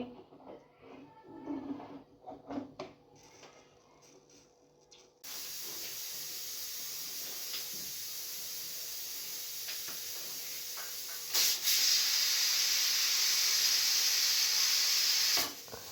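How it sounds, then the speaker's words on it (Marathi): A pressure cooker of chickpeas lets out a loud, steady hiss of steam that starts abruptly and runs for about ten seconds, swelling louder near the end, after a few quiet clicks and knocks. "त्यासाठी मी इथे कुकर लावून घेतलेला आहे"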